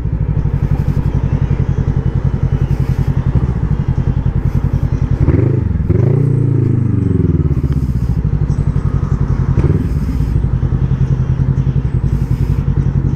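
A motorcycle engine runs close by with a steady throbbing idle, then rises in a sharp rev around the middle before settling back to idle, with a second smaller throttle blip shortly after.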